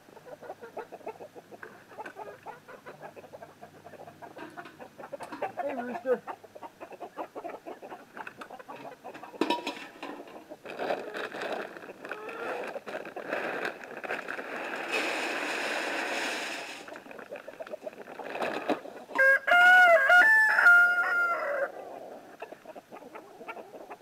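Chickens at feeding time cluck and chatter steadily up close, with a rooster crowing loudly near the end and a continuous rustle running underneath.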